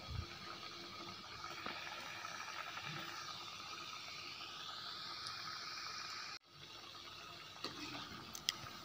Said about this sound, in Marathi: तेल गरम झाल्यानंतर या शंकरपाळ्या आपण आता तळून घ्यायच्या आहेत